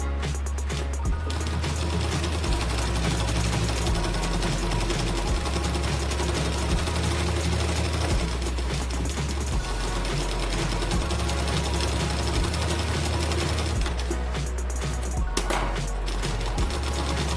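An electric sewing machine stitches piping onto a blouse sleeve, running continuously with a fast, steady mechanical whir and rapid needle clatter, briefly slowing and pausing near the end.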